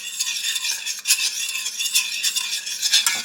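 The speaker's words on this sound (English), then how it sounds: "Get that mixed in with the rest of your ingredients." Spoon scraping and stirring orange chicken sauce in a pan, a steady close rasping swirl heating through with faint sizzle, continuous for a few seconds with no talk.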